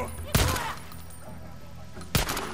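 Gunfire in the video game Days Gone: two sharp, loud broadband shots about two seconds apart, each with a short decaying tail, over a low background rumble.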